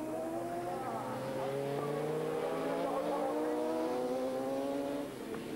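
A racing motorcycle engine screams at full effort during the 1997 Bol d'Or endurance race, a loud continuous high-revving wail rising and falling through gear changes for several seconds, close to the microphone.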